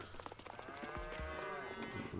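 Cows mooing in the Farming Simulator 22 farm game, a pair of long, low bellowing calls from the cattle barn over steady ambient farm noise, fairly close and clear with no talking.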